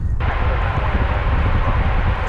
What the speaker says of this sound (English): 777-200 ER from the year 2000